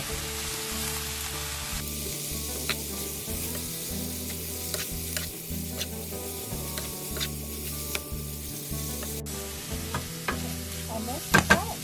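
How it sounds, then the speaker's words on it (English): Squid sizzles in a hot pan with red pepper, green pepper and leeks, a steady close frying hiss broken by repeated scraping stirs of a utensil, with no talking. "red pepper and green pepper, some leeks, a little too much. And stir it well."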